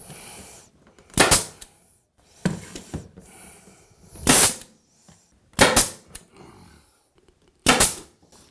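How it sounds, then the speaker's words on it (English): A pneumatic nail gun fires into hardwood floorboards during floor installation: five sharp, loud cracks spaced a second or more apart, each with a brief clattering tail, with quiet handling between shots. "I'm going to nail through the surface where I know my base shoe is going to cover it"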